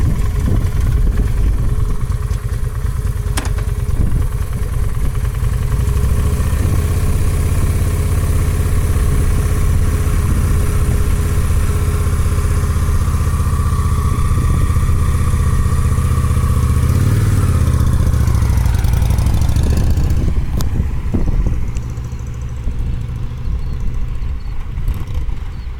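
A motorcycle engine idles loudly and close with a low rumble, then surges and sputters as a beginner in first gear feeds gas and eases the clutch, with a sharp clatter near the end.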